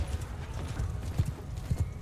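Heavy cavalry horses gallop in the Bannerlord battle game, a fairly quiet stream of rhythmic hoof clip-clops with a brief whinny, no talk over it.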